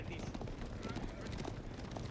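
Horses gallop in an Age of Empires IV 2v2 match, a dense, continuous patter of hooves under a talking voice.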